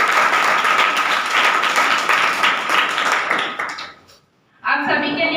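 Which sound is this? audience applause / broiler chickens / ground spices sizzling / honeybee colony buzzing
audience applause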